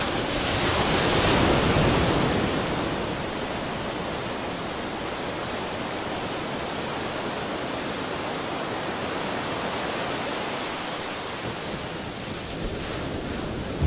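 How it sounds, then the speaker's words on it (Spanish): Heavy ocean surf roars on steadily, a dense wash of breaking waves that swells a little at the start and then holds at an even level, with no voices. "Las olas monstruo."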